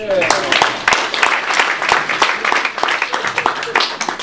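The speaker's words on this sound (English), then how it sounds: "Well, I think that warrants some applause" An audience claps for Yash Gupta at his 80th birthday celebration, a lively spell of distinct, closely packed hand claps mixed with some chatter.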